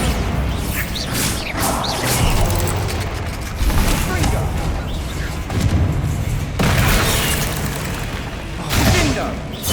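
In Hogwarts Legacy, Bombarda spells go off as heavy booming blasts and crashing debris amid a constant din of spell combat, with a voice speaking over parts of it.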